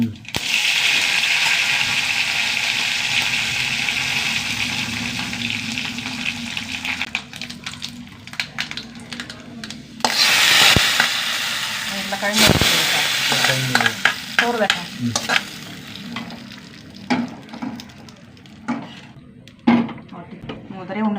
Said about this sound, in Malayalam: കുറച്ച് എണ്ണ ഒഴിച്ചൊന്ന് ചൂടാവട്ടെ കടുക് ഇട്ട് കടുക് പൊട്ടട്ടെ